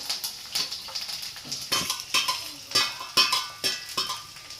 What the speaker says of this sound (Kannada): ಆನಿಯನ್ ಸ್ವಲ್ಪ ಫ್ರೈ ಆಗಲಿ, ಇದು ಗೋಲ್ಡನ್ ಬ್ರೌನ್ ಬರಬೇಕು ಆನಿಯನ್.